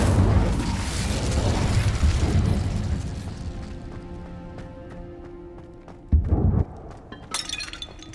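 Incendio fire spell cast in the Hogwarts Legacy video game, a dense roaring crackle and whoosh that fades over several seconds, followed by a brief louder burst and a bright shimmering tail near the end.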